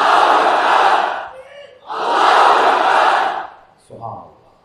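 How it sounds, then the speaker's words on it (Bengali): A crowd at a Bengali Islamic gathering chants the takbir in two loud, massed shouts, each about a second and a half long with a short gap between, followed by a brief softer voice. "আমরা একটু মন খুলে তাকবীর দিতে চাই"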